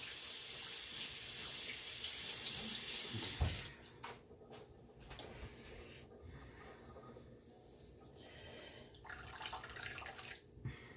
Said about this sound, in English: Let me just run my hands under some cold water.